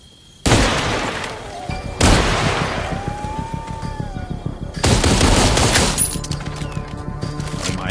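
Turret gunfire in the VR zombie shooter Arizona Sunshine Remake: loud, close bursts of rapid automatic fire that cut in and out in long sustained volleys, filling the space with dense rattling shots.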